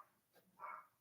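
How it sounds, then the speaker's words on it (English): A pet dog gives one short, faint bark somewhere in the background of a quiet indoor room, muffled and distant. "it's my dog barking in the background"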